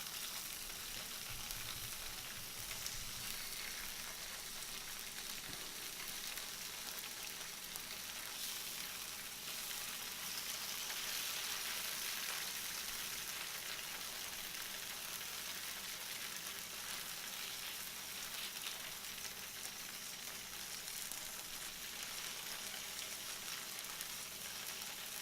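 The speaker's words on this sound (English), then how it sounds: "I also like to flip the bacon right away because I want it all to get oil so that it can be nice and" Vegan bacon crackles in a pan of oil, a constant soft sizzle and hiss lasting the whole stretch, fairly quiet and uninterrupted, with a few faint handling knocks near the start.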